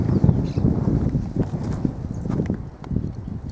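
A bayo ruano Quarter Horse walks at a slow pace, its hooves giving a steady, close run of dull clip-clops against light wind noise.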